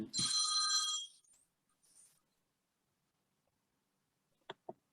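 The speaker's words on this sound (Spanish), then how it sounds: "Vamos a apagar el teléfono." A telephone rings once in a short burst of bright trilling tones during a discussion on cultural management. Silence follows, then two faint clicks.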